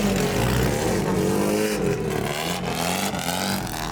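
Chain-driven early Frazer Nash racing car at Goodwood, loud engine roar and revving held steady throughout, sounding close and continuous with no talk over it.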